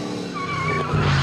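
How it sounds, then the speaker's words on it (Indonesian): The DeLorean time machine car from Back to the Future speeds off with a rising engine roar and a thin tire squeal. The sound is brief and moderately loud, and it swells toward the end. "Dr. Emmett segera menjalankan mobil dan mobil itu melaju dengan cepat ke arah mereka"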